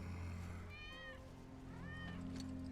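Cat meowing in the video game Final Fantasy VII Remake: two drawn-out, rising-and-falling meows a second apart, clear and close over a steady low game hum.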